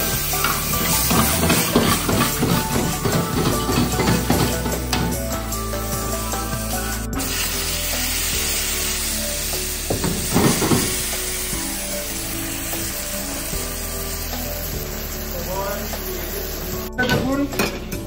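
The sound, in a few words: onion, dried chilli and whole cumin frying in a pan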